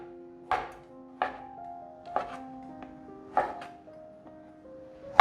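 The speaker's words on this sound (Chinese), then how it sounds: "把天贝切细丝" A knife cuts tempeh into thin strips on a board, with about five crisp, evenly spaced chops and a couple of lighter taps, each ringing briefly in a quiet kitchen.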